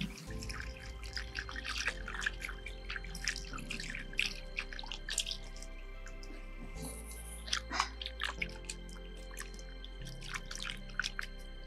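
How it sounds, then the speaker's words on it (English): Peeled pumpkin being washed under running water at a sink, with irregular splashing, drips and wet handling noises, close and moderately quiet. "Don't forget to wash your pumpkin."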